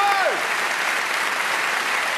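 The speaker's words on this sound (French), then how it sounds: "Voilà, on peut l'applaudir très fort." A comedy show audience applauds heartily in honour of Robert Lamoureux, steady, full clapping from a large crowd, with a brief whistle or cheer at the start.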